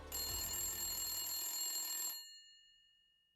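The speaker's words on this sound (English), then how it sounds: "But then they got a hint. A phone call." A telephone bell rings loudly and steadily for about two seconds, then cuts off into silence before a faint click at the very end.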